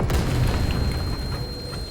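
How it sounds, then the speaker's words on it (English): A flashbang grenade goes off in the video game Vampire: The Masquerade Bloodlines 2, a dull, booming burst fading into a low rumbling wash, with no talk. "Oh, flashbangs."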